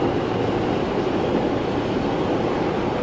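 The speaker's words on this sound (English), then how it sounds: "a train has arrived at J Street and the next stop" An R line subway train rumbles at a station bound for 14 Street-Union Square, with a steady, loud, continuous roar of wheels on rails and no voices.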